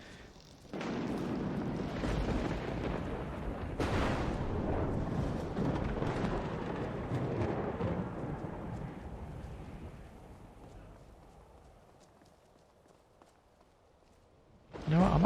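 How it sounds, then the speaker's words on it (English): Skyrim video game thunder rumbles in loudly with a sharp onset, a long rolling roar that slowly fades away, followed by a sudden loud burst at the very end. "thunder again"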